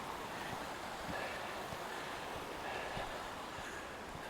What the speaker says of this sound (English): I think the streams are really flowing.